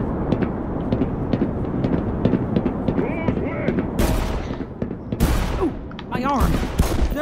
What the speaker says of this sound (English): I'll just get that shotgun back out,